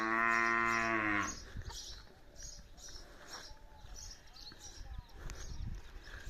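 Young bull, son of a breeding bull, lowing once loudly and close at the start, a long harmonic moo of about a second, followed by people talking and faint farmyard clatter.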